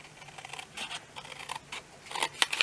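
Scissors snipping through paper card in short separate cuts, quiet and close, with sharper crisp clips near the end and no talking.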